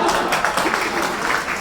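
An audience at a university lecture on lyric poetry breaks into applause, a brief burst of steady, fairly loud clapping.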